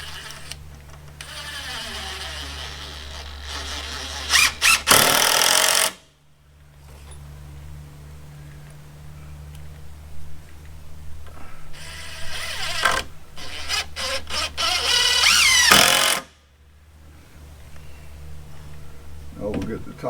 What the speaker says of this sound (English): I'm going to secure it again with some construction screws